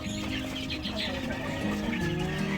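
Several sick chickens cluck and murmur together in a steady, busy chorus, close by and continuous.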